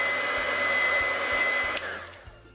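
Heat tool melting clear embossing powder on a card, a steady loud blowing whir like a hair dryer with a high fan whine, running continuously throughout, no talking.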